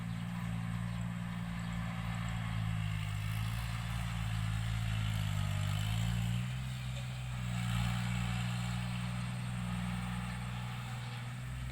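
Two farm tractors run steadily in a rural field, their engines throbbing loud and continuous with low rumbling tones that rise and fall slightly throughout, with no talking.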